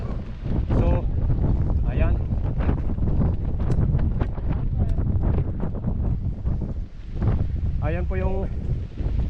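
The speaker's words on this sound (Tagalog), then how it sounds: "mahangin lang po" Strong, steady wind roars and buffets the microphone throughout a downhill bicycle ride, with a person talking over the constant rushing noise.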